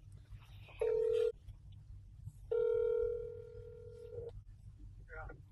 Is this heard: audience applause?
no